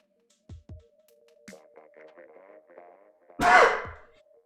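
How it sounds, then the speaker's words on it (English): A few soft breaths and small mouth sounds, then one loud, sudden sneeze close to the microphone. "Oh, I'm gonna sneeze, excuse me."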